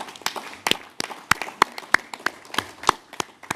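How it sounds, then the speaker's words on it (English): Scattered applause from an audience at an African climate summit session, greeting Alok Sharma of COP26 in Glasgow; sparse individual claps ring out near and distinct rather than as a dense wash. "Alok, you deserve a round of applause"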